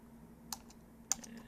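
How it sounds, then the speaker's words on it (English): A computer keyboard being hit in quick, light clicks, a few separate keystrokes in a quiet room, faint and close, no voices. "just smash every key on the keyboard"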